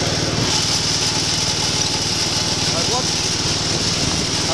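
Riding lawn mower engine runs loud and steady nearby with a constant droning roar, while a person talks over it.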